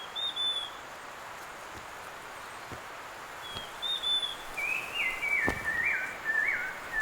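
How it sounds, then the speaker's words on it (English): A spectacled fulvetta sings in a bamboo forest in central China, giving a few thin, high warbling phrases, faint and somewhat distant over a quiet hiss of background ambience. "There's a spectacled fulvetta singing over there"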